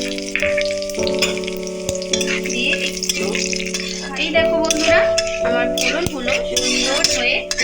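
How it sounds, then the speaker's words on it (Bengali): Dry chilli, bay leaf, cumin and whole garam masala crackle and sizzle in hot oil in a pan, with an occasional utensil clink, while a voice talks over it. "ফোড়ন দিয়ে দেব শুকনো লঙ্কা তেজপাতা সাদা জিরে গোটা গরম মশলা"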